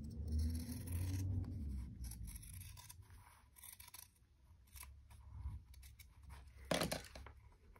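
Scissors snip and trim canvas for a handmade art journal, a series of close, crisp cuts and rustles with one louder snip near the end and no talking.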